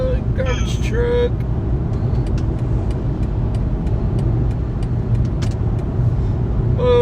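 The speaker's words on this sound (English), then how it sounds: "Whoa, garbage truck." A garbage truck drives past on an Oklahoma street during a tornado outbreak, its engine a steady, loud low rumble that lasts throughout while people talk over it.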